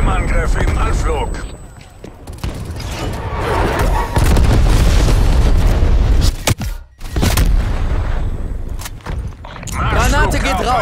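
Grenade blasts and heavy gunfire in Call of Duty Black Ops Cold War multiplayer make loud booming, rumbling explosions that fill most of the stretch, with game voice callouts over the battle noise.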